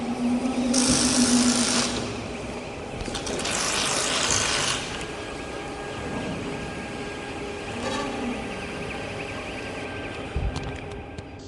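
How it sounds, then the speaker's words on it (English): Positioning pins on a CNC panel bender are pushed down by hand, giving several clicking, ratcheting mechanical bursts with quieter gaps between them, close-up over a faint machine hum. "Next, manually push all pins all the way down."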